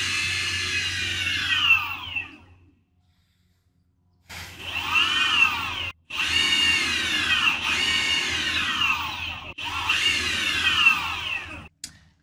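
Wheels spin with a steady whirring hum that rises and falls in pitch over several runs, stopping for a couple of seconds after the first run, then pausing briefly between the later ones.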